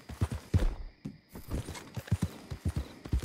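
Horse hooves clip-clop at a steady walking rhythm in Red Dead Redemption 2, with clear close knocking steps and a brief pause early on.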